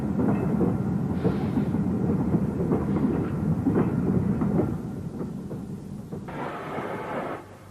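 A Stanier Black 5 steam locomotive, British railways in the 1950s or 1960s, hauls a failed diesel multiple unit with a heavy, continuous rumble and rhythmic clanking that eases slightly after a few seconds.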